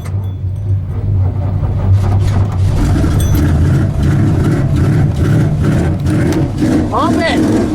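A Ford Ranger drag truck engine struggles to start below freezing, cranking and catching into a loud rough roar that holds and revs, with voices talking over it.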